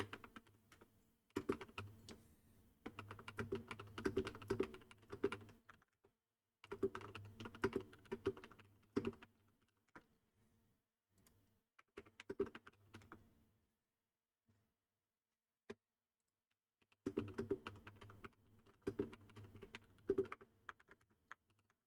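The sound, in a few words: typing on a computer keyboard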